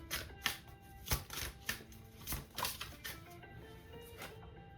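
Tarot cards shuffled by hand in several quick riffling bursts, each a short papery rattle, close and fairly quiet with no talking.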